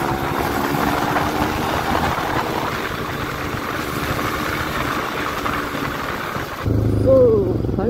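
A motorcycle stopped in the middle of the road idles with a steady, rumbling drone that holds throughout, then shifts in tone near the end as the surroundings change, with a voice speaking over it.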